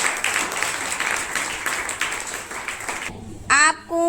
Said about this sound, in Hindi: फलक के लिए जोरदार तालियां बजाओ।